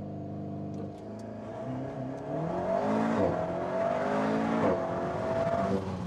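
An Alpine A110 GT launches under launch control, its engine note climbing hard through the gears with rising, stepped revs and brief dips at each shift, heard loud and close from inside the car.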